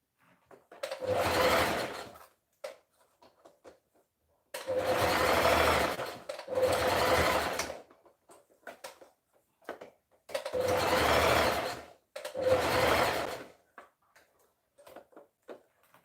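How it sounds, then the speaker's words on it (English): A sewing machine stitches a skirt seam about half an inch wide, running in five steady whirring bursts of one to two seconds, separated by quiet pauses with faint handling clicks, close and alone. "I'm going to stitch about 1/2 inch."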